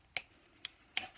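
Three sharp, crisp snips in quick succession, close and fairly quiet, like small scissors cutting; blunt scissors trimming cord ends down at a knot on a handmade keyring.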